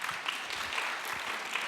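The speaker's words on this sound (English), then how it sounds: "Y'all can clap for that." Audience applause at a community summit program, a steady wash of clapping from a crowd sustained throughout, fairly even in loudness with no voices over it.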